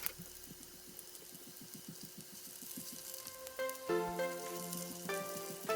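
Oil heats in a pan over medium to medium-high heat before chicken gyoza go in, a faint soft sizzle under a rapid mechanical ticking, joined later by a steady hum and a few clinks.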